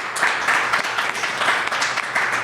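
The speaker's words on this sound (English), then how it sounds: "I think we should give them all a round of applause" A room audience gives a round of applause to panelists after a legal panel discussion, loud and close, with a steady clatter of many hands.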